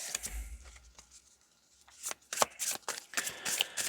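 A tarot deck is shuffled close by, soft handling at first, then a run of crisp riffling and snapping bursts.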